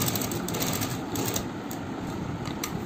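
A sewing machine runs steadily, stitching a pink fabric strip onto a band-neck garment, with a close, continuous mechanical whir and fine rapid needle ticking and no pauses.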